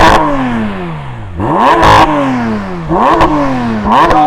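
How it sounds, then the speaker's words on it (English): A flat-six car engine revved repeatedly while stationary, three or four sharp blips climbing steeply then dropping back to a rough idle, loud and near. "Stationary revving, no question, that sounds the best"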